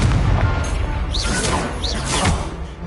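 The Incendio fire spell is cast in the Hogwarts Legacy video game, giving a loud, dense, roaring burst with whooshing swells and crackling effects. It sounds close and fills the whole moment.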